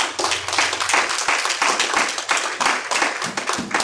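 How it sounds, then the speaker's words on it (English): A church congregation claps their hands together in worship, a dense, continuous patter of many hands that is steady and fairly close, with faint voices underneath. "let's give a clap offering to Jesus"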